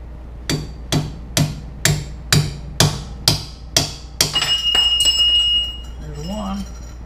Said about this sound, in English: we're gonna punch some freaking bearing races out using a punch and a hammer